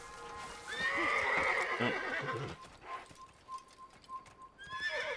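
A horse in the Assassin's Creed video game whinnies loudly, then its hooves clip-clop in an uneven run of soft thuds that fades into the distance, with one brief spoken exclamation near the start.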